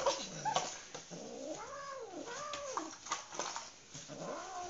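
A kitten growls and caterwauls in rising and falling wavering yowls while chewing a piece of pizza, close and fairly loud, with no talk over it.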